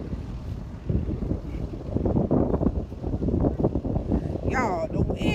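Strong wind buffets the microphone while riding an airboat on a New Orleans swamp tour, a constant roaring rumble with gusty swells; a brief high whine cuts in near the end.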